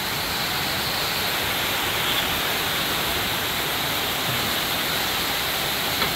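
Heavy rain pours steadily on a house, a dense continuous hiss with no breaks, loud and close throughout.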